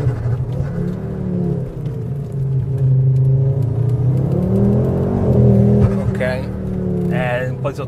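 A 400 hp, 600 Nm Ford Focus RS is driven hard near Sorrento, its engine note climbing and holding in strong, close revving surges while someone talks over it.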